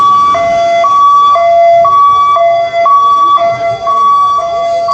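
An ambulance siren from the local Khetarpal Hospital medical team wails loud and close at a disaster mock drill site, cycling a steady two-tone pattern without a break.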